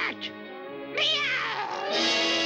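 A cartoon cat in a classic animated short lets out a drawn-out meow followed by a louder, rising yowl, clear and close with no talking.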